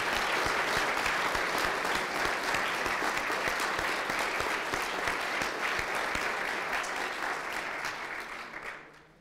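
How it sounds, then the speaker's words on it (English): Sustained audience applause in a lecture hall after a research talk on learning at scale, steady and full for about eight seconds before fading out at the end. "a hand of applause."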